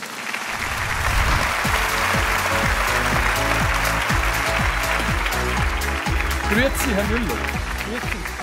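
A big crowd applauds steadily, loud and sustained, with a voice briefly heard partway through.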